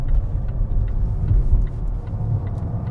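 A Volvo S60 B5 with a 2-liter engine revs and rumbles through a forced downshift on a handling test, a close, steady mid-pitched drone heard alone.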